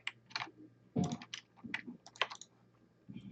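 Computer keyboard keys and mouse buttons clicked in irregular bursts while attempting an Alt plus right-click shortcut during animation rigging work, with close, fairly quiet taps and short pauses between clusters.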